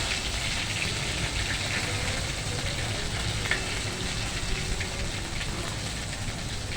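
Ground mustard and turmeric paste hitting hot oil while cooking a village jute-leaf dish, a dense, steady close sizzle running throughout without talk.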